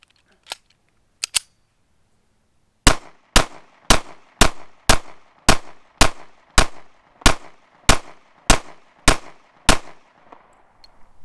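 Sharp, loud gunshots from a Springfield SA-35 pistol at a range: two shots up front, then a steady string of about fourteen evenly paced rounds, each with a short ringing decay.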